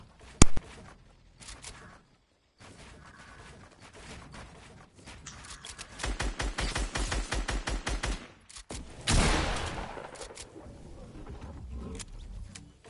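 Video game gunfire, scattered single shots early on, then sustained rapid bursts of automatic fire, loud and close, with a sharp blast partway through and quieter pops trailing off.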